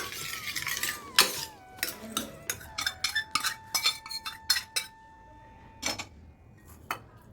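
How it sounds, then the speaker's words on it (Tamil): Cooked horse gram being mashed in a metal vessel for rasam, heard as close, irregular metallic clinks, taps and scrapes in quick bursts with short pauses and no talking. "நம்ம இதை நல்லா மேஷ் பண்ணிக்கலாம்"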